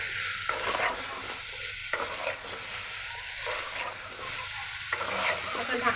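Spice paste and taro roots fry in soybean oil with a loud, continuous sizzle close by, and a utensil stirring the pan scrapes in repeated strokes throughout.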